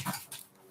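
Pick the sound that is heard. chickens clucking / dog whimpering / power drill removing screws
dog whimpering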